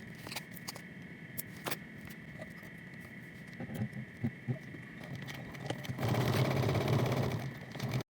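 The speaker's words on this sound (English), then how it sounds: "let's top stitch this across." A sewing machine top-stitches across a leather eyeglass case in a short, steady whir near the end, after light handling taps and rustles. The sound is fairly faint overall.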